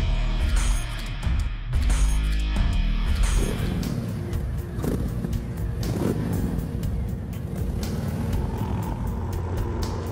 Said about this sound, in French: on regarde tout de suite l'essai de cette Harley Davidson qui s'est terminé à la tombée de la nuit